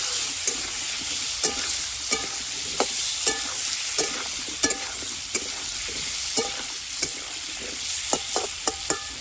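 Vegetables stirred and fried in oil for a fish curry with ol (elephant foot yam) and cauliflower, giving a steady sizzle punctuated by regular sharp spatula scrapes and clicks against the pan, close and alone with no talk.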